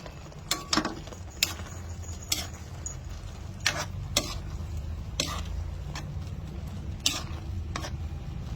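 A spoon stirs sautéed bitter gourd with egg and shrimp in a pan, giving light, irregular clicks and taps against the metal over a steady low sizzle, close and fairly quiet.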